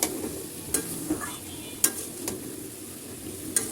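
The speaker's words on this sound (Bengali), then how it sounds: "এবার কুমড়া দিয়ে আমি আরো কিছু সময় কষে নিব" Pumpkin pieces cook with drumstick stems in a pan under a faint, low sizzle, punctuated by a handful of sharp spatula clicks and scrapes as the mix is stirred, with no voices.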